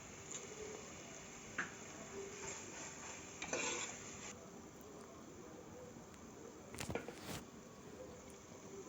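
Onions sauté quietly in a pan before ginger and garlic are added, a faint continuous sizzle broken by occasional soft scrapes and a couple of clinks from the stirring utensil, with no talking.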